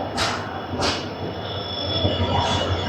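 An Indian Railways train hauled by a WDM 3D diesel locomotive rolls past. Loud wheel squeal rises and falls over a steady rumble of rail cars, close and continuous.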